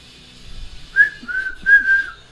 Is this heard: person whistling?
yes